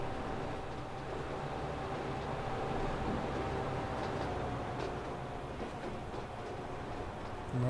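A train in the Transport Fever video game passes through an underpass as a steady low rumble with faint rail clatter, moderately quiet and continuous, with no speech.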